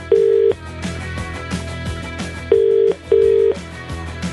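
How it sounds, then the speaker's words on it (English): Landline telephone being dialed for a prank call: three loud steady tone bursts stand out over a busy background of faint clicks and a low hum. "That's the phone over there."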